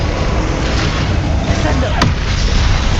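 Confringo blasting spells in Hogwarts Legacy go off as a continuous rumbling roar, with a sharp crack near the middle and a faint whistling sweep right after it.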